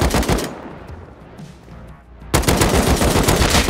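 AK rifle fire in a video game cracks out in rapid automatic bursts, loud and close, with a short lull before another sustained burst.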